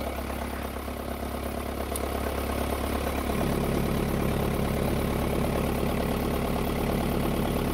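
A Renault Clio 2 engine catches and settles into a steady idle, a continuous close rumble with a shift in tone partway through as it starts up.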